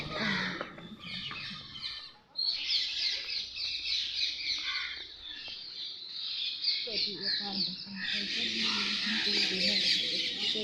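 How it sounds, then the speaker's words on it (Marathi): Many birds squawk and chirp continuously in the morning, a dense overlapping chorus filling the whole stretch, with a few harsher calls standing out. "पक्ष्यांचा किलबिलाट चालू आहे"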